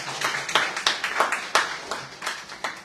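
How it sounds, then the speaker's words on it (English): An audience at a news round-up gives a burst of applause, sharp irregular claps close by that keep going steadily throughout. "So give her another round of applause"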